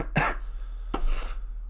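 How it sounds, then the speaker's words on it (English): Two short, dry coughs from a man fighting a cold, the first sharp and close, the second softer about a second later, over a steady low hum. "I can't even talk without coughing."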